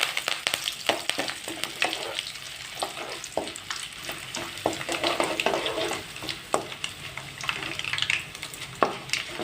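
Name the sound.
chili tomato pickle frying with curry leaves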